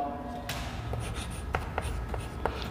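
Marker or chalk writing on a classroom board during a physics lecture on momentum and Newton's laws, a soft continuous scratching with a few sharper strokes and taps, moderately close, with no speech over it.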